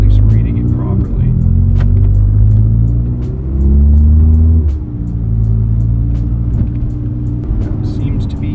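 A Volkswagen MK6 GTD drives with a loud, close engine drone from inside the cabin, the pitch rising and falling as it pulls and builds boost, with brief talk faintly under it.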